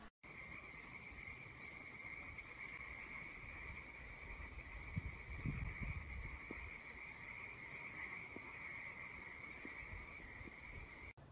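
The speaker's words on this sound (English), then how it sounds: "Have you heard frogs calling each other?" Frogs calling at night near water, a steady high trilling chorus that runs unbroken throughout, with a few scattered nearer croaks and low rustling underneath.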